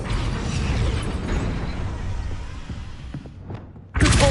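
A Depulso force spell goes off in Hogwarts Legacy, a rumbling magical whoosh that fades down before a sudden loud burst of impact near the end.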